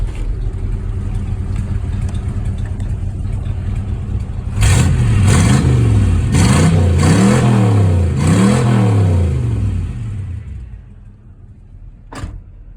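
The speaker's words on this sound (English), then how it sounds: "It's got a shitty exhaust on it right now." An Oldsmobile 350 V8 swapped into a 1986 Chevy square-body truck with a poor, loud exhaust idles roughly, then revs hard in four rising-and-falling bursts before settling back and cutting off, followed by a brief sharp click.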